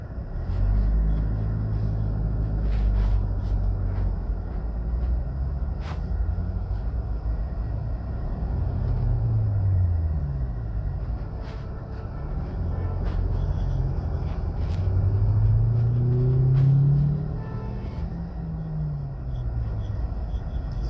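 Busy street traffic and buses at the Halfway Tree transport hub in Jamaica, with low engine rumble from passing vehicles rising and fading, and a heavier vehicle swelling near the end.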